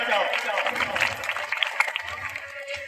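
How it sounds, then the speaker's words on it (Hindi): Audience applause at a gathering honouring Babasaheb Ambedkar's message on education, a steady clapping wash running throughout with voices mixed in underneath. "जोरदार भाई तालियां बजाओ।"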